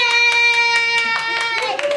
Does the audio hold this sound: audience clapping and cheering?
yes